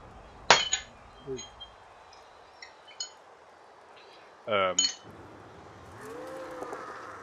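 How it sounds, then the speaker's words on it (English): Glass smashing in the background during a Blood Bowl 2 match: a sharp clink near the start, a few lighter clinks later, and a brief thud-like burst, with faint voices over a quiet room. "I hear glasses or cups smashing in the background"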